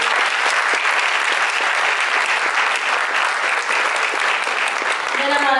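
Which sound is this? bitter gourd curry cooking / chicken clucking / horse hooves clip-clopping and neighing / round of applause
round of applause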